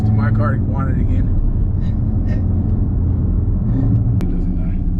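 Audi RS3 with factory anti-lag idling and rumbling steadily up close, a deep continuous engine drone with a brief sharp pop near the end, while people talk over it.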